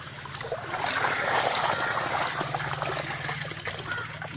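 Water trickles and splashes as someone wades in a shallow stream while fishing, a soft continuous gurgle with faint movement, fairly quiet and close.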